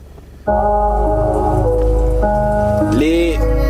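Steady rain patters beneath a song as a transition, with sustained tonal notes entering after a quiet start and a sliding tone near the end.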